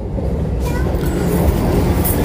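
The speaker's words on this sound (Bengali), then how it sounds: "আমাদের ট্রেন ছেড়ে দিল যাজপুর কেওনঝড় রোড থেকে।" The Vande Bharat Express rolls along at speed after leaving a station, giving a steady, dense rumble and rush of wheels and carriage noise heard from inside, with no breaks.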